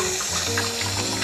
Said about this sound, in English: Now we're cleaning the milk system.